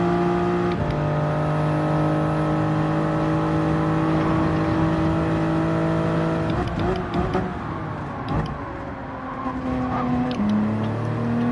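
Several race cars in Gran Turismo 7 roar with sustained engine whine, pitch shifting as they accelerate and change gear, a dense continuous engine sound from start to end.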